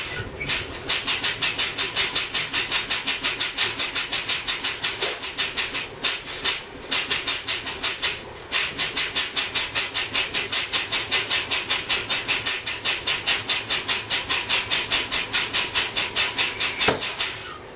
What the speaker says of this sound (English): To do this test, I will continue to fan off air pressure, and my spring brake should activate between 40 and 20 psi.